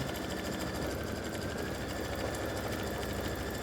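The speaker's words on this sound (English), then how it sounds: "So this just stitches an outline of those areas that you're going to cover up with fabric." A sewing machine runs steadily, stitching an applique outline on fabric for a Christmas stocking, with a constant fast mechanical whir and no pauses.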